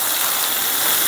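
Ingredients slide into hot oil for fried prawn preparation, producing a loud, dense, steady sizzling hiss that fills the whole moment without pause.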